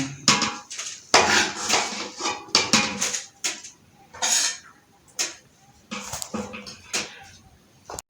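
Beef yakhni pulao rice being served onto a plate: repeated clinks and scrapes of a spoon against a pot and plate in short bursts with pauses between, fairly close and clear.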